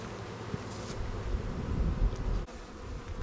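Swarm of honeybees buzzing close and loud as they are shaken into a new hive, a dense continuous drone with soft handling knocks.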